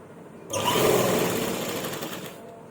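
A sewing machine stitches lace along the edge of a dupatta, a close, steady mechanical whirr lasting about two seconds between quieter moments, with no speech over it.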